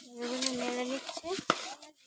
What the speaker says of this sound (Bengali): এগুলো নেড়ে নিচ্ছি।